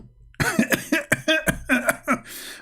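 A person coughs repeatedly in a close, dry burst of about eight sharp coughs in quick succession, with a hoarse throat-clearing quality and short gaps between them.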